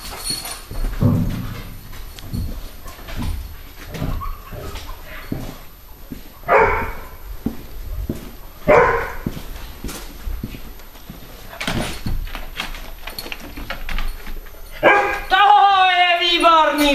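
A dog at a training session gives several sharp, loud barks and yips close by, mixed with whimpers, handling noise and someone speaking between barks.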